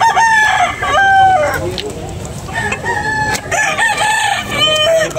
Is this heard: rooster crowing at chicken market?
yes